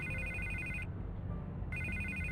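Telephone ringing in Batman: The Telltale Series, an electronic bell tone in two bursts separated by a short pause, clear and close over a low background hum.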